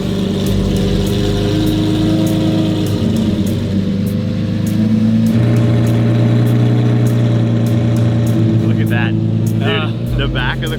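A fire-damaged Lamborghini SVJ idles with a steady, rumbling engine note after being started, running continuously near the listener while a person talks over it.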